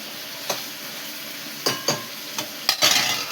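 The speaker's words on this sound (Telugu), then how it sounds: "ఏమైనా వస్తూ చికెన్ ఫ్రై చేసినాను, చికెన్ అలా ఫ్రై అవుతుంది." Chicken frying in a pan, a steady sizzle broken by several sharp scrapes and stirring clatters that grow busier toward the end, close by with no talk.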